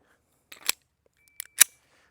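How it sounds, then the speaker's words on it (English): Two sharp, fairly quiet reports from a SiG P365 XMacro pistol, each a brief crack with a small lead-in click, spaced about a second apart. "So we'll just shoot it a little bit here."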